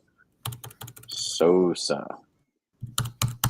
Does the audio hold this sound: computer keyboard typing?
yes